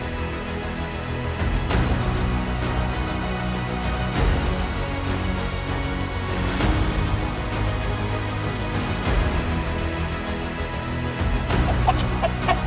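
A rooster and hens on a North American farm clucking steadily and fairly loudly throughout, with repeated sharp calls over a busy barnyard background.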